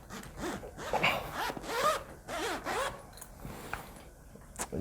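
A large zipper on a Galaxy grip mallet stick bag is dragged back and forth several times, close and crisp, in uneven rasping strokes with short pauses between them.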